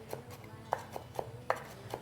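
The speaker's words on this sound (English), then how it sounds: "now the shredded carrot, I'm just going to chop it to little small pieces" Knife chopping shredded carrot into small pieces on a board at home, a handful of quick, separate cuts landing close by at an uneven pace, with quiet gaps between them.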